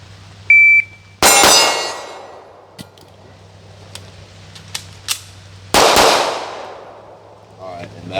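Smith & Wesson pistol shots ringing off steel targets: two sharp, loud cracks close together, a pause of a few seconds with faint clicks, then another pair of shots.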